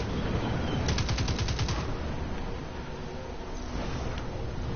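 Gunfire in Destiny 2, a fast machine-gun burst of evenly spaced shots near the start followed by continuing scattered firing and battle noise, loud and close, no talking.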